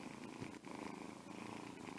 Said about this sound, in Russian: Уже мурлыкает.